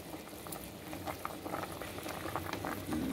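Pork leg (pata) simmering in a pot of water, a steady close bubbling and gurgling with small popping patters throughout.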